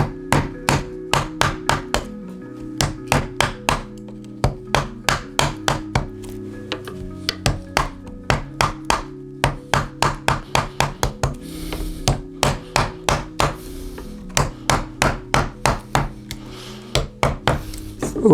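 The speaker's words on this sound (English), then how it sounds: "I now go with the chisel." A chisel driven into wood while carving a nyckelharpa, a steady series of sharp knocks in short rhythmic runs with brief pauses between groups, close and distinct, no talking.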